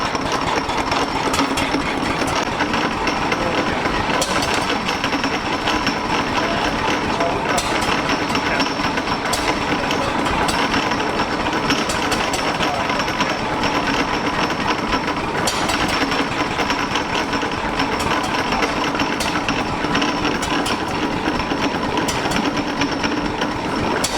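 An Ogle patent oil engine running on paraffin, loud and steady, its continuous mechanical chugging filling the space without pause for the whole stretch.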